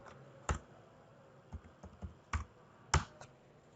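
A username and password are typed on a computer keyboard in a few separate, sharp keystroke clicks, close and fairly quiet, spaced irregularly with short pauses between.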